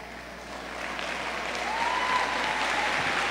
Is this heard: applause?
yes